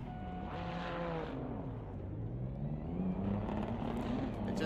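GT3 race cars on a formation lap at Road America, engines droning steadily with rising and falling pitch as they pass, moderately loud and continuous with some background noise.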